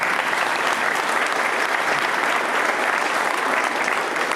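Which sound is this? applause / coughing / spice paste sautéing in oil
applause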